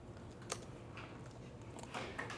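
Keystrokes on a computer keyboard while someone codes, a soft, irregular clatter of separate clicks with a small burst near the end, faint over a steady room hum.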